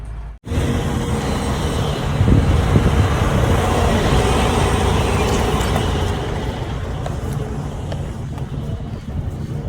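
A hopper-bottom semi truck put in gear and pulling away: a loud, steady, close diesel rumble that starts abruptly, swells slightly and then holds for several seconds without talk.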